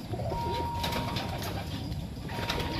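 Low, soft cooing of pigeons against a constant noisy background hum, with faint rustling and scattered chirps; no talking.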